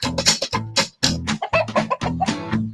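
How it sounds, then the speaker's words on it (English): A chicken clucks in a farm barn setting at a school assembly, with repeated bursty clucks close and fairly loud, in an irregular rhythm with brief pauses between calls. "Hello, chicken."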